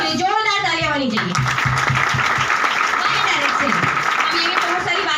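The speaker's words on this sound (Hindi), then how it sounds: "आप कमाना चाहते हैं तो जोरदार तालियां होनी चाहिए।" Audience at a multi-level marketing business presentation in Rajnandgaon breaking into loud applause, dense clapping that swells after the first second and continues steadily while a voice carries on over it.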